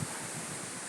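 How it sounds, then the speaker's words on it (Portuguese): Strong wind blows steadily in a broad, constant rush, loud and close, with no speech heard. "Olha, olha o vento, ó. Olha, a gente vê a hora cair os pés de planta. Olha a ventania."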